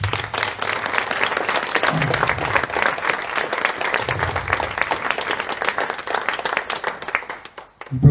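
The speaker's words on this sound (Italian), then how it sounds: "un grande applauso" An audience at an evening festival event in Italy gives sustained applause, with dense, steady clapping filling the whole stretch and a brief louder flurry at the very end.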